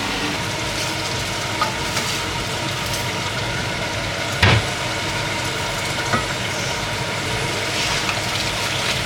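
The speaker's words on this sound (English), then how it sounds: "Stir these chilies." Chilies are stirred in a cooking pot, making a steady sizzling, bubbling noise with one brief louder clatter midway.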